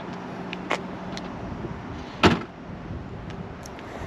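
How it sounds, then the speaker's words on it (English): Boot of a Mercedes-AMG C43 (W205) closing and locking at the press of a button, with soft clicks and a whirr, then a firm thud of the lid shutting against a steady outdoor background hum. "One closes the boot, the other closes the boot and locks the car."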